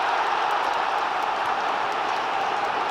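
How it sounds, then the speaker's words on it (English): Football crowd at a Sunderland v Watford match, a steady, broad roar of supporters urging their players on, sustained and even throughout with no distinct peaks. "The crowd encouraging them to step out."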